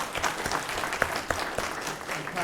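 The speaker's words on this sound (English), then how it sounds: "we give Pastor Hightower, Apostle Hightower, a round of applause?" Applause at a city council meeting for a pastor, a short round of scattered clapping with distinct individual claps standing out, moderately loud in a room, with some faint background voices.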